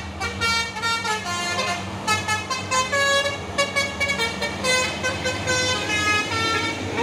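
Buses and other vehicles climb the Bukit Kodok hill road, engines rumbling beneath repeated musical telolet horn blasts that rise and fall in quick, tuneful bursts.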